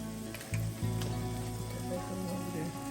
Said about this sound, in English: I just wanted to stir these up to make sure that they're cooking evenly in the pan